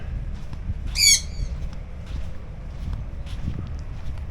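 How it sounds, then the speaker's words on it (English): A bird calls once at a Maldives island resort, a short bright harmonic squawk standing out over steady low wind and ambient rumble, with faint scattered sounds afterward. "Some bird."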